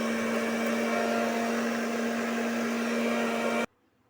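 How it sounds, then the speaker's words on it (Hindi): A mixer grinder grinding chilli pickle whirs loudly with a steady motor hum, running continuously before cutting off abruptly near the end, leaving near silence. "मेरा मिक्सी चल रहा है और इसमें डाले हैं जो अचार, वो पिसा रहा है"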